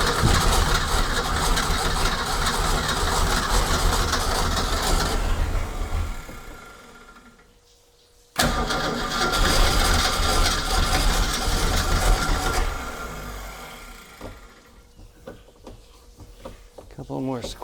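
The engine of a 1976 Ski Nautique boat at its first start runs with a loud, rough roar, cuts out briefly and fires up again, then fades to a lower idle, with voices talking over it.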